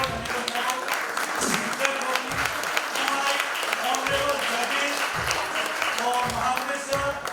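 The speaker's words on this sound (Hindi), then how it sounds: "एक बार जोर से तालियां" An audience applauds steadily and loudly throughout at a children's talent show grand finale in Mumbai, a dense, continuous wash of clapping with a host's voice speaking over it.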